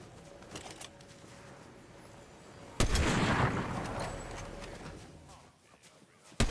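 Cannonballs fired in Fortnite Chapter 5, a sudden loud booming blast that cuts in partway through, then rumbles and fades, over quieter game noise, with a second burst at the very end.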